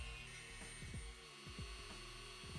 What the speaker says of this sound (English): I'm using the same sanding wheel to shape the feet into kind of more of a human foot shape.